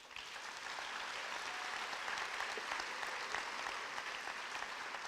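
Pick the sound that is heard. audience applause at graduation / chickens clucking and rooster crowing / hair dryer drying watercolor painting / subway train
audience applause at graduation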